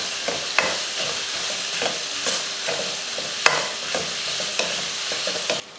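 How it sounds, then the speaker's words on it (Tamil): Chopped small and large onions and four crushed green chilies sautéing in a pan, a loud continuous sizzle with repeated scraping strokes and a few sharp knocks of the spatula against the pan, no one talking. "இதெல்லாம் சேர்த்து நல்லா வதக்கிடுவோம்"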